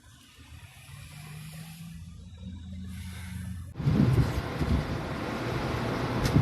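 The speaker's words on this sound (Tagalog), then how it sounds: "Lakas ng hangin, oh." Strong wind roars and buffets steadily, growing sharply louder and rougher partway through, with no voices.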